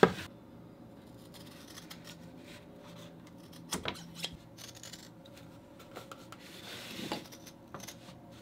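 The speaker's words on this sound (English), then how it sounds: "This I'll use the shears because it's got curved lines." Shears cut curved lines through leather in a series of crisp, close snips and rasping strokes, scattered irregularly with quiet gaps between them.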